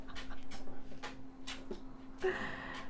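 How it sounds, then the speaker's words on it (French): A dog pants in short, quick bursts and lets out a high whimper, close by and fairly loud against a quiet room. "il y a le chien derrière"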